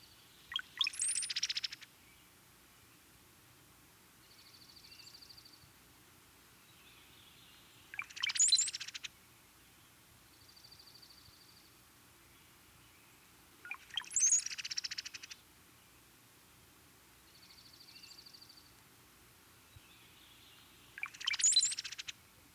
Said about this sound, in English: their combined songs and chatters can create quite a cacophony